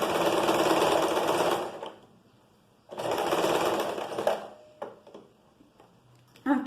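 A sewing machine stitches a fabric top, opening with a short backstitch; two loud running bursts separated by a pause, followed by lighter handling clicks and brief mechanical taps.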